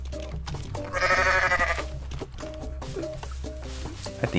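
A goat in Goat Simulator lets out one loud, wavering bleat, backed by a steady bed of game music and effects.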